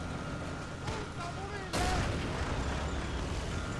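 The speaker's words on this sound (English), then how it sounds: "taking shots off at each other" Gunfire from the Men of War: Assault Squad 2 war game, a steady wash of battle noise that jumps louder partway through as shots and blasts pile up, with someone talking over it.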